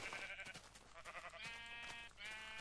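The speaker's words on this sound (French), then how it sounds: "Alors là, je vois déjà qu'il y a du mouton et de la vache." Sheep in the Minecraft video game bleating loudly and close, a couple of quavering, nasal baa calls in quick succession with no other sounds around them.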